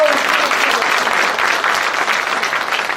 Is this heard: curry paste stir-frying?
no